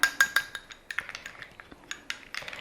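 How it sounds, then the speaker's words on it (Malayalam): A spoon stirs a mango juice face pack mixture in a bowl, giving a few sharp clinks against the rim followed by a quicker run of lighter taps and scrapes, close and alone. "അതിനുശേഷം ഇതെല്ലാം കൂടി നന്നായിട്ട് നല്ല രീതിയിലൊന്ന് മിക്സ് ചെയ്തെടുത്തു"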